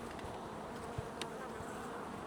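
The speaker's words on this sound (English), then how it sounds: "I mean, look at the number of bees here." A swarm of honey bee workers buzzes as a steady, soft, continuous drone near a full hive, with no voices.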